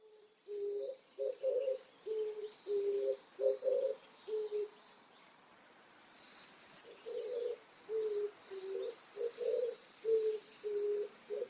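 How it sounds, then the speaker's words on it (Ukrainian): Soft, purring coos repeat in two rhythmic runs separated by a quiet pause, a turtle dove calling fairly close against a faint background. "тепер переглянемо спів горлиці"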